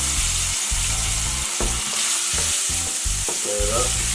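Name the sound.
spices (épices) sizzling in frying oil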